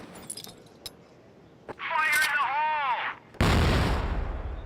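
In the video game Crossfire a grenade detonates with a sudden loud boom and rumbling blast, preceded by swooping game effects and clinking, heard close during an esports match.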